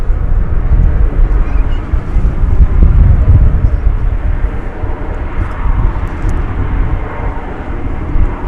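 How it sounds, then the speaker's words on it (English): AeroMexico Connect airliner bound for Mexico City at DFW Airport; a loud, steady jet engine rumble with heavy low-end and wind buffeting fills the whole stretch, close by and continuous. "This is the AeroMexico Connect to Mexico City."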